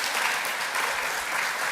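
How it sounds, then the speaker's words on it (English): Breakfast audience applauding at an event with the Rhode Island governor, a brief, steady burst of many hands clapping, loud and even throughout. "Give her a round of applause, please."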